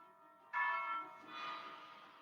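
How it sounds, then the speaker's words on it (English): A bell tolls in a fantasy tabletop role-playing session, struck loudly with a bright ring that fades, followed by a second, softer swell. Nobody speaks over it. "you hear what sounds like a bell, not a conch shell"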